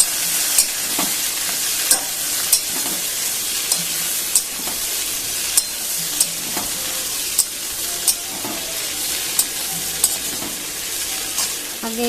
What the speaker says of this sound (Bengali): এবার আমি টমেটোগুলো দিয়ে একটু নাড়াচাড়া করব।